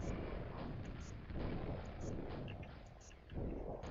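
Rumbling explosions from grenades in the 1996 shooter Quake, a dense continuous boom and roar with repeated heavy blasts swelling through the whole stretch, loud and close.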